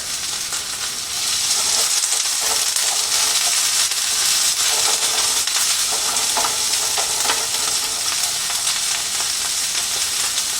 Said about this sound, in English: put the carrots and the scallions in the hot pan